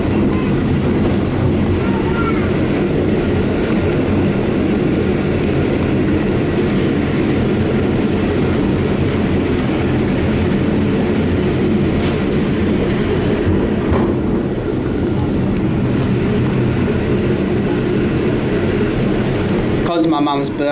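Swan Hill N set passenger train running, with steady rumbling wheel and engine noise throughout at close range, and a brief louder clatter near the end; speech is faint or absent.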